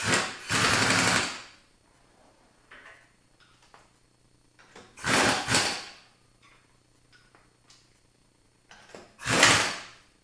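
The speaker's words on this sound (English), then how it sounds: "I used the air gun to put it back on" An air impact gun fastens a car wheel back on, likely a BBS wheel with its center cap removed. Three loud, harsh rattling bursts of about a second each, spaced several seconds apart, with quiet shop ambience between them.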